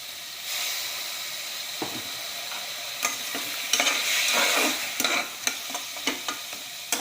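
Chopped tomatoes and onions sizzle and hiss in an oil-filled pan with salt added, a spoon stirring and scraping through the mixture in intermittent bursts over a continuous frying sound.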